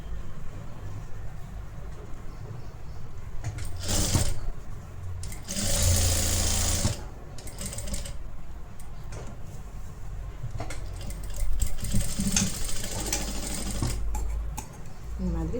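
A sewing machine stitches a blouse collar, running in bursts of rapid mechanical chatter with louder surges and brief pauses. A faint voice speaks now and then in the background.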